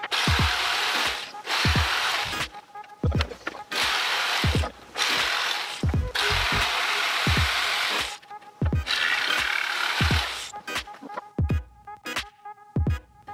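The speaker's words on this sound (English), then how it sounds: "I then use the jigsaw to cut this to shape." A jigsaw cuts tongue and groove wood cladding for a Volkswagen Caddy van, its loud buzzing strokes running in several bursts of a second or two, separated by short pauses and small clicks and knocks.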